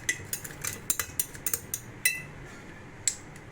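A spoon stirring lemon juice and leaves in a glass for a homemade mocktail, a quick run of light clinks and taps against the glass, close, then a few spaced final clinks.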